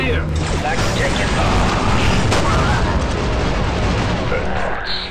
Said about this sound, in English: We love exploding boom booms.